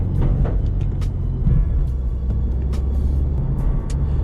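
A 2017 Subaru WRX drives along, its low engine and road rumble steady and close from inside the cabin, with no talking.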